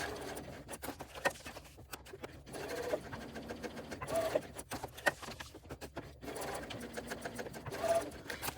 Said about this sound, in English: go over to the sewing machine and just reinforce around the ends of each of those areas of top stitching